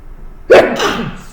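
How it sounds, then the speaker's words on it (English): A person sneezing while yawning, a single abrupt, loud burst close to the ear that trails off into a drawn-out, voiced exhale. "Sneezing and yawning at the same time."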